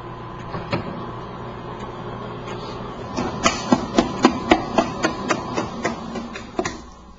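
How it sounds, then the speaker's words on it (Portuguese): Stand mixer beating bread dough at second speed for tiger bread, a rhythmic series of loud thumps and knocks that grows denser and stronger partway through, then stops near the end, with no voices. "e deixar bater em segunda velocidade até obter pontos de vela."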